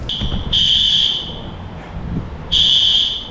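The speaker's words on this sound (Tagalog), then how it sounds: "Biglang nag-alarm nung paglabas natin, pambihira." A store's security alarm goes off at the exit as shoppers leave. It gives two loud, piercing electronic beeps, one at the start and one near the end, with quieter mixed noise and faint voices in between.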